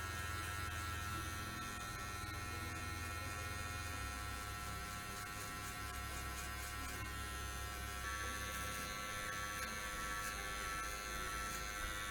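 Electric hair clippers fitted with a number 2 guard buzz steadily through hair during a self-cut mohawk; the motor tone shifts slightly as the clippers move. Close but fairly quiet, with no speech.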